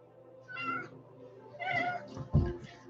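A pet cat meows repeatedly in the background during a Halo 5: Guardians livestream, with several drawn-out, mid-pitched calls and a louder, sharper one near the end, while the game keeps playing underneath.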